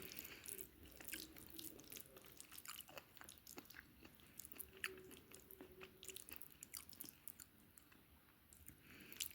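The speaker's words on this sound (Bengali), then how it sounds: "এই তো এখন আরেকটা বাইট দিয়ে নিব।" Someone chews a mouthful of khichuri made with meat and pickle, close to the mic: soft, moist crunching and squishing bites that repeat steadily and stay quiet.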